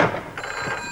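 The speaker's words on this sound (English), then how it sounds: "There's a call coming through." A telephone rings once, a short, fairly loud trill that fades quickly, with no voices.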